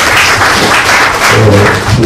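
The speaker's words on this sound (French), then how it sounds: "je vous demande aussi d'applaudir" An audience at a book dedication ceremony applauds a guest, a loud, continuous wash of many hands clapping up close throughout.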